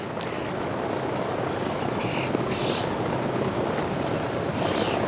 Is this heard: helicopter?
yes